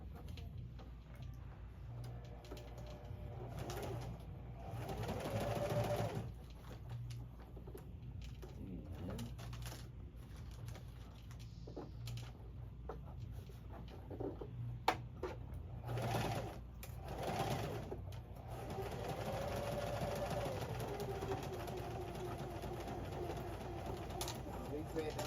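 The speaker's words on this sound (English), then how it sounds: "I want you to keep sewing." A sewing machine stitches fabric in a home sewing lesson for a child, running as a steady low mechanical hum for most of the stretch with brief pauses, while pigeons coo faintly in the background.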